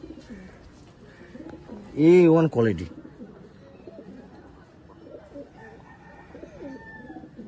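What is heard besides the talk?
pigeon cooing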